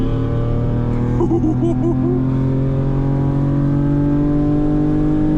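A 1994 Ford Probe with a 2.5 V6 engine revving hard and steadily, a loud, sustained engine drone from inside the car with a brief voice in the middle.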